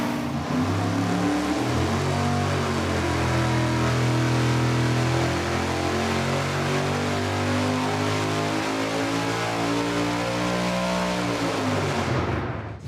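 Supercharged big-block Chevy V8, blown and overdriven about 18.75%, revving hard on an engine dyno, a loud sustained roar that climbs and holds steady through the pull, close up with no talking.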